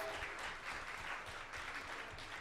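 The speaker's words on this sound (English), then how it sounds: "let's give her a big round of applause." An audience at a community transit forum applauds for a birthday, a soft, steady patter of many hands clapping, faint and distant throughout.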